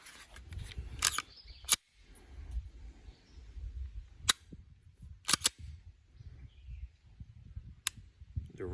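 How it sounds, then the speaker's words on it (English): Sharp, isolated clicks of a CZ P09 pistol trigger being dry fired, several single snaps spaced a second or two apart, close and dry against a quiet room with faint low handling noise between them. "It's not recommended to dry fire these."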